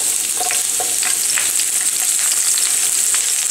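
Green chillies sizzling in hot oil in a pan for gobi manchurian, a loud, dense, continuous crackle close up with a few faint clinks.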